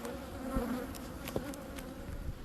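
Honey bees buzzing at a hive during a nectar dearth, a continuous close droning hum with individual bees flying past the microphone, no talk.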